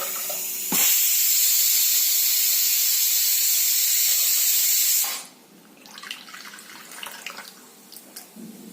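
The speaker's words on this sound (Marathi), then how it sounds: "आपली कुकरची पण 1 शिट्टी झालेली आहे।" A loud, steady high-pitched steam hiss from a pressure cooker whistle blasts for about four seconds, then stops abruptly, leaving faint clinks and kitchen noises.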